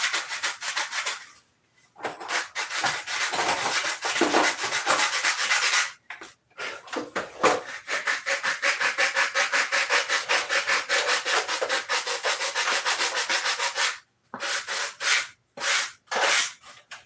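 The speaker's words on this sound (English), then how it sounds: "Now all I gotta do is sand it straight." A wooden piece sanded by hand, with steady rhythmic rubbing strokes close up, repeated in long runs separated by brief pauses.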